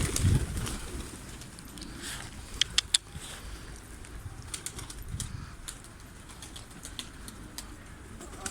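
Hungry Mardin pigeons feed on scattered grain up close, with soft pecking taps, shuffling and brief wing flaps in an irregular patter, plus a few sharp clicks and some low rustling.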